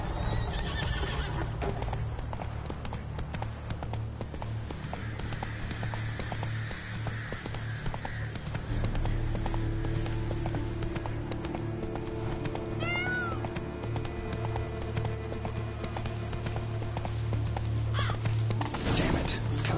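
A horse in The Witcher 3: Blood and Wine clip-clops along at a steady pace, with neighs and whinnies over a constant low hum and game ambience, no talk heard.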